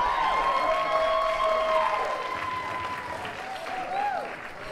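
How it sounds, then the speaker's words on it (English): Wedding guests clap together in a steady burst of applause, under whistling tones and a faint voice, fading slightly toward the end. "let's give a round of applause to Yvonne, Tim, Sherry, and Cam for putting on a beautiful weekend"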